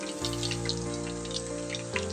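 A single fish frying a second time in hot oil, giving a steady, close sizzle with scattered light crackles and pops throughout.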